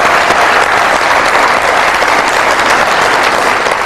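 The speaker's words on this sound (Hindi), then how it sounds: "अब आप सबकी तालियों में रियाजुल हक जज" A television studio audience applauds a guest, a dense, loud, steady wash of clapping from many hands that fills the whole stretch without pause.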